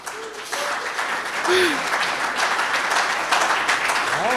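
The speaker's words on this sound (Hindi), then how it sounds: "तालियां आपकी आए" Audience at a Hindi kavi sammelan poetry gathering breaks into steady applause, moderately loud and continuous, with a faint voice and scattered exclamations over the clapping.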